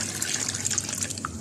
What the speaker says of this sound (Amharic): እዚህ ጋር ስሰራ ውሃ ጨምራለሁ